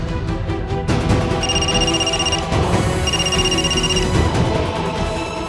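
A telephone rings with repeated electronic bell bursts, loud and close, in a room, with no talk over the rings.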